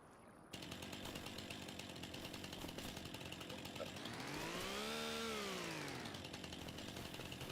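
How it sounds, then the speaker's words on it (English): A chainsaw in Farming Simulator 25 cuts through bushes, a steady buzzing drone that rises in pitch and then falls back as it bites in, loud and close over a constant background hum. "Chainsaw the bushes."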